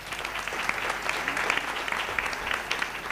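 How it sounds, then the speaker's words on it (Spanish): Applause for a brother at an evangelical Catholic gathering, steady and moderately loud for about three seconds with no talk over it. "Aplauso para el hermano"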